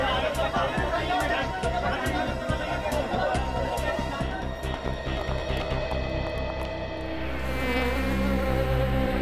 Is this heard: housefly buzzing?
yes